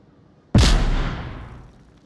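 A single grenade explosion inside the Onward VR shooter, erupting suddenly into one loud, close blast whose heavy rumble decays slowly over more than a second, heard alone without voices.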